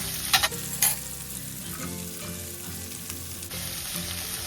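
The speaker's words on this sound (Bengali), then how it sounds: "পেঁয়াজ আর আলুটাকে নেড়ে নিয়ে চাপা দিয়ে দেবো" Onion and potato sizzle and fry in a pan, with a couple of sharp stirring scrapes near the start and a steady close crackle throughout, no talking.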